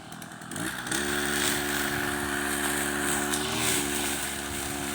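A woman works a gas-powered brush cutter on grass. Its engine catches after a brief start, then holds a loud, steady, close-up buzzing drone, with no talk.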